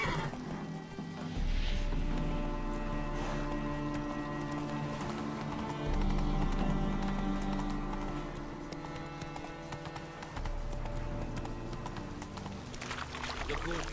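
Horse hooves gallop steadily in The Witcher 3, a continuous clip-clop under game music, with brief whinnies near the start and again toward the end.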